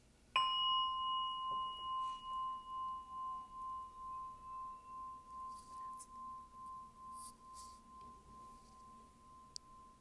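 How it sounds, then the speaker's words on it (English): A single meditation bell struck once, its clear ringing tone sustained and slowly pulsing as it fades over about ten seconds in a quiet room, with a faint tap near the end. "Breathe into the sound of this bell as you hear it"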